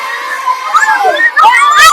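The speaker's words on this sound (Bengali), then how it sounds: "প্রচুর উৎসুক জনতার ভিড় রহমতগঞ্জ গরুর হাটে।" A dense crowd of people at the Rahmatganj cattle market, many voices overlapping in a loud, continuous murmur with shouts rising near the end.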